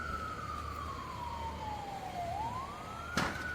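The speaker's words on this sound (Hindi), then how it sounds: "इससे पहले ईरानी हमले को लेकर पूरे इजराइल में कई जगहों पर सायरन बजाए गए।" A single wailing siren in Israel, the air raid warning sliding slowly down in pitch and then rising again over distant street hum, with a brief bang near the end.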